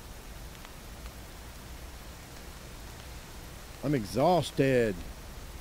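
Rain falls in the video game Hobo: Tough Life as a faint, steady hiss, then someone speaks briefly near the end.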